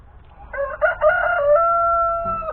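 A rooster crows once, loud and close, a rising ragged call that settles into a long sustained tone before trailing off, with no talking over it.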